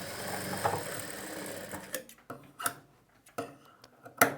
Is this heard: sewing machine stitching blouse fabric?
yes